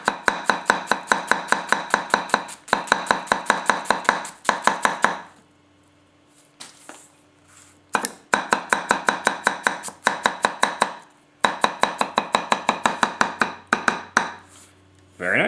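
A Masakage Koishi 270mm gyuto knife chops food on a cutting board in rapid, steady rhythmic bursts of crisp close taps, with brief pauses between runs.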